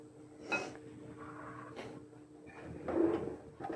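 A vinegret beet salad with red onion is stirred in a bowl, giving close scraping, clinking and soft thuds of utensils against the dish in irregular strokes, without speech.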